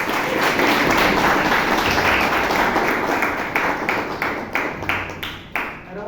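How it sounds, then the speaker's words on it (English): Warm applause for Toastmaster Vivek Vijay at a Bangalore Toastmasters meeting: dense clapping from the room that thins out toward the end into a few separate claps, with no one talking. "Let's give it up a huge round of applause to Toastmaster Vivek Vijay"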